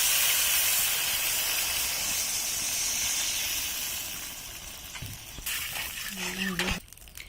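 Water poured into a hot pan of frying green banana, papaya and fish for a shukto curry sends up a loud, steady steam hiss, fading toward the end as clatter and a voice come in.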